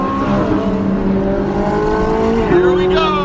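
A supercar accelerates hard on a Los Angeles freeway, its engine roaring loud and near. The pitch climbs, then drops sharply at a gear shift and surges again, with voices faintly underneath.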